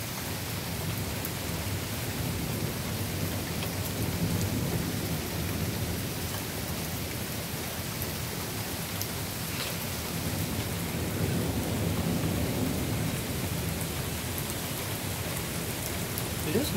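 Heavy, steady rain pours down during a severe thunderstorm in Monroe, Michigan, with low thunder rolling underneath the dense hiss of the downpour.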